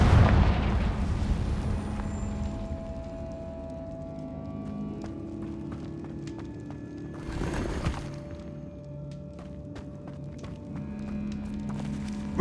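A Confringo spell explosion in the video game Hogwarts Legacy, a loud fiery blast at the start that fades into quieter game ambience, with a second sharp burst partway through.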